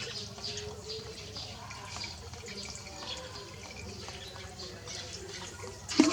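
Water runs and trickles steadily while a jet pump is primed by hand from a bucket, a low continuous gurgling flow with faint dripping, ending in a brief louder knock.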